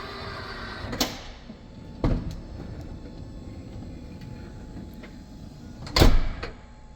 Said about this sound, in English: That will bring the ramp in and shut the door.